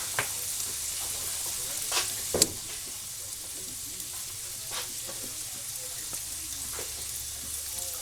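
Oil sizzling in a frying pan while crispy pork chops are cooked, a steady close hiss with scattered pops and crackles throughout, one louder spatter near the middle.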